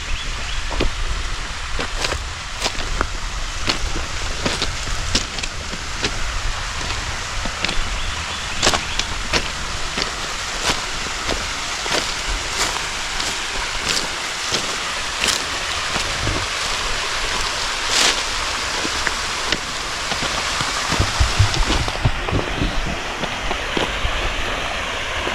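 Steady broadband rush of a waterfall by an old canal tunnel along the C&O Canal near Brunswick, Maryland, continuous and fairly close, with faint clicks and knocks scattered over the flow.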